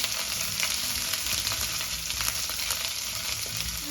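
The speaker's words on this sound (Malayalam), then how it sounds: "ഒരു കഷ്ണം ഇഞ്ചി ചതച്ചത് പിന്നെ കുറച്ച് കറിവേപ്പില ഒരു വറ്റൽമുളക് ഇട്ട് കൊടുക്കാം ഇനി ഇതൊന്ന് നന്നായിട്ടൊന്ന് മൂത്ത് വരട്ടെ" Crushed ginger, curry leaves and a dried red chili crackle and sizzle in hot oil, a dense, steady frying hiss with faint stirring movement, close and uninterrupted by voices.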